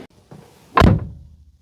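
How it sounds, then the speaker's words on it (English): A 2005 Ford Focus ST door slams once with a solid, deep clunk, preceded by faint handling noises and followed by a short fading thud. "car door slam. Nice, just satisfying clunk."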